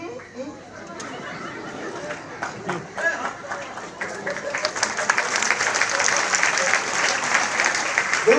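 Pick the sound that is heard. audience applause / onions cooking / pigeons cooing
audience applause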